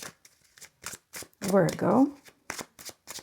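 A tarot deck is shuffled in quick bursts of riffling card taps for a January Virgo reading, the crisp flicks coming close and clear around a short stretch of speech.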